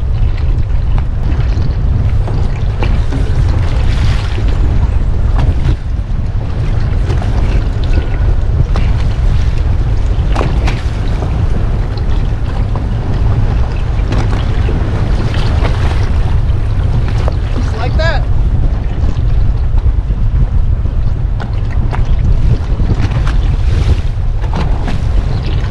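Strong wind buffets a small inshore fishing boat on Tampa Bay while a trolling motor strains against an incoming tide, giving a loud, unbroken roar of gusts and microphone wind rumble with water slapping beneath, no voices.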